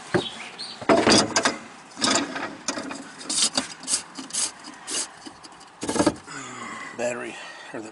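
A spare tire is dropped and shoved into the trunk of a 2013 fifth-generation Camaro, with close scraping, rubbing and thudding bursts over several seconds and a person speaking briefly alongside.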